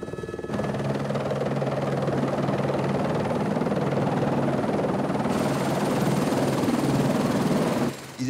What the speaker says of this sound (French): Pour gagner le bateau, plusieurs rotations d'hélicoptères sont nécessaires.